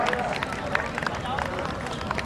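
Loud, dense applause from an audience at a Punjabi ceremony honoring veteran sports players, steady and close throughout, with a voice speaking over the clapping.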